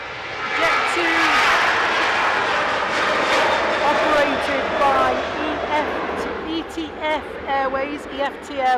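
An ETF Airways Boeing 737 at Manchester Airport gives off a steady, fairly close jet engine rumble and whine. A voice talks over the engine noise near the end.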